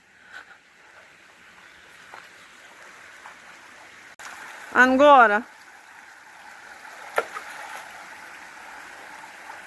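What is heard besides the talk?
flowing stream water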